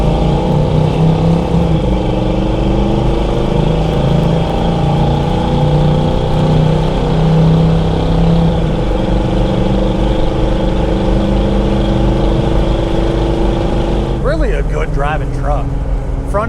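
A 1978 Chevrolet Blazer 4x4 with a 350 V8 and automatic transmission drives along with a steady, loud, low engine drone and road rumble from inside the cab, and someone talks over it near the end.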